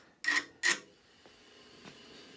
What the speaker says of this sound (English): I'm softening the edges by filing a little bit off